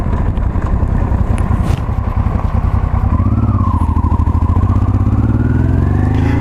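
A 1989 Honda Transalp XL600V motorcycle rides along with its V-twin engine droning steadily and close, pitch rising as it accelerates midway, wind rush throughout and no talking.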